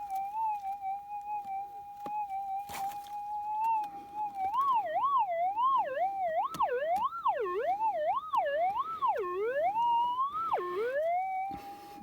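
A Minelab 6000 metal detector sounds over a buried target while hunting gold nuggets: a steady whining tone that starts to warble and swoop up and down in pitch as the coil sweeps, loud and alone.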